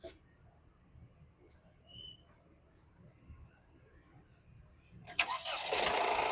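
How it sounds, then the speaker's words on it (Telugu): A 2017 Honda WR-V VX with sunroof cranks and fires on a single self-start, its engine catching abruptly after a quiet stretch and settling into a steady, fairly close idle. "సింగిల్ సెల్ఫ్ లో బండి స్టార్ట్ అవుతుంది సార్"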